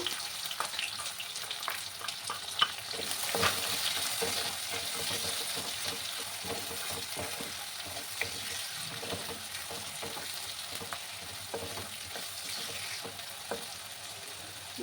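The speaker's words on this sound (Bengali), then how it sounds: "লাল লাল করে আমি পেঁয়াজগুলোকে ভাজবো।" Chopped onions fry in oil while being stirred for a prawn and green jackfruit curry, a soft continuous sizzle broken by scraping stir strokes, fairly quiet and close, with no talk.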